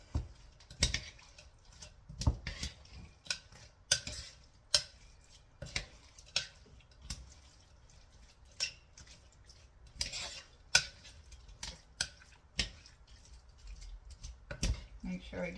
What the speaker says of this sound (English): I'm gonna give this a good stir.